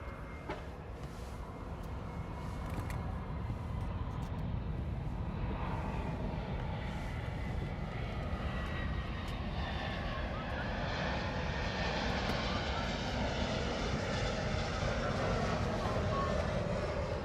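A fixed-wing airplane on runway 24 left roars steadily as it takes off, a broad engine rush building slightly in strength over the stretch, with faint radio chatter underneath.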